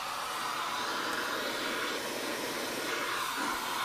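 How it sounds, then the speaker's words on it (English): A vacuum cleaner runs steadily with a constant broadband whooshing hiss, moderately near and unbroken, with no talking. "So either I vacuum it off the floor or I vacuum it right off your body."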